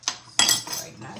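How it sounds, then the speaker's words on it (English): A knife cuts into a piece of fresh ginger on a board, giving two sharp, close strokes about a third of a second apart, each trailing off briefly, with no talking. "what I'm gonna do is just gonna cut a piece"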